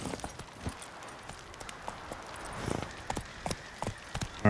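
Hooves of Roach, the horse in The Witcher 3 video game, clip-clop in an uneven run of sharp, moderately close hits over a steady outdoor game ambience.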